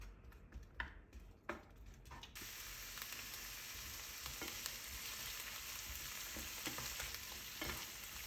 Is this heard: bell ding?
no